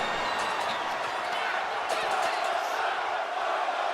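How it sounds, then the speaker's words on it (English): A wrestling crowd at a community show roars and chants in a broad, continuous wash of many voices filling a hall, steady and loud throughout with no single voice standing out. "These barbarians in the crowd chanting one more time."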